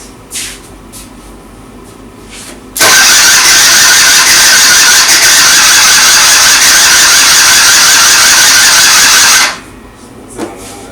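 A Suzuki scooter engine cranks on a repeated start attempt during piston and vacuum pump repair work, a loud harsh continuous whir lasting about seven seconds that stops abruptly, with quiet surroundings before and after.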